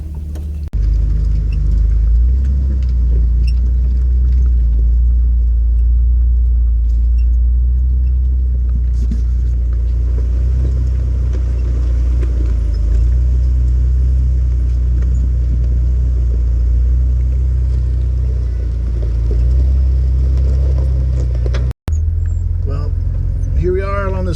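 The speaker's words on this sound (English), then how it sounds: "we've been driving and driving and driving through some mud and snow" A Jeep TJ grinding along a rocky mountain ridge, its engine a loud, steady low rumble that keeps on throughout, with wind and a voice in the cabin.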